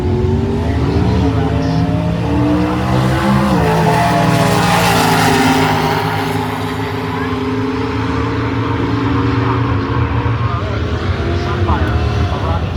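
A Pontiac Sunfire and another car accelerate hard down a drag strip at Brainerd, Minnesota, their loud engine roars rising and shifting in pitch, while a track announcer talks over the racket.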